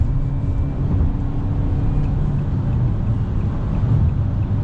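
Fiat Cronos 1.3 eight-valve engine pulling in fourth gear on a highway, a steady low drone with road noise from inside the cabin, no talk.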